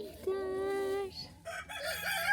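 A rooster in a village coop crows one loud, drawn-out, close call, then nearby hens cluck and chatter softly, with no one talking.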